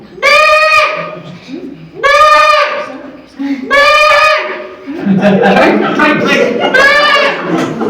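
A voice imitates a goat with several drawn-out wavering bleats, followed by a brief chuckle and more bleating.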